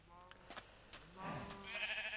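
Sheep in the Minecraft video game bleat in a few short, faint calls, followed by a louder rising in-game noise near the end.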